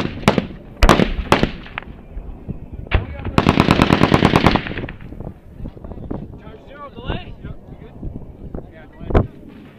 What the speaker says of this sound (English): They're shooting at this one right here, too.